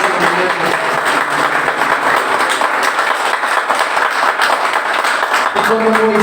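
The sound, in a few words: congregation applause in church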